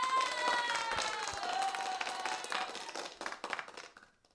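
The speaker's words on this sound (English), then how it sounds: "And some applause" An applause sound effect plays during a live instrumental guitar stream, a crowd clapping and cheering in a brief burst that fades out over a few seconds.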